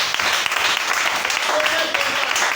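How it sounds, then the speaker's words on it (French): An audience at a church gathering applauds, steady clapping throughout at moderate loudness, with a voice speaking over it. "Acclamez pour elle."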